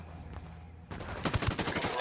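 Rapid gunfire bursts in the tactical shooter Ghost Recon Wildlands, a quieter stretch giving way to loud, dense volleys of overlapping shots near the end.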